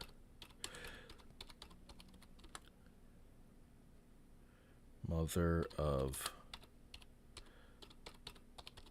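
Rapid clattering keystrokes on a computer keyboard during a card pack opening, steady and close, with a brief burst of speech partway through.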